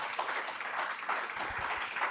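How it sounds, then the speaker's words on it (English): Applause from an audience at a college anniversary celebration, an even wash of many clapping hands sustained at moderate level with no talking over it. "let's give her a round of applause"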